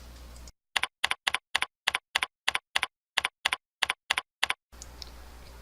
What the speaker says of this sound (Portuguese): A utilização mais óbvia do teclado é para escrevermos textos.